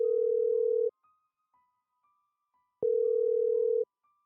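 A telephone ringback tone sounds in two long steady beeps separated by a pause of silence, clear and alone.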